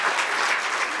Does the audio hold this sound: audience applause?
yes